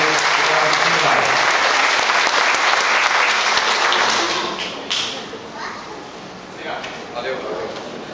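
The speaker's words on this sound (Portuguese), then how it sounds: "Mais uma vez, uma salva de palmas à Associação de Moradores e à Comunidade." Applause for a neighborhood residents' association rises loud and dense at a community gathering, then thins into scattered claps and some background voices.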